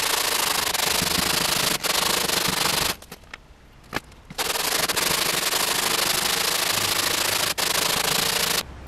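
Rapid, steady scraping of sandpaper rubbed back and forth by hand on a wooden guitar fingerboard, loud and close, with a brief pause in the middle.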